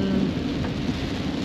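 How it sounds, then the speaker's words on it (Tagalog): Heavy rain pours steadily with a low rumble of thunder underneath, a dense, continuous roar heard close by on a road trip toward Batangas in the Philippines. "Lakas ng ulan eh."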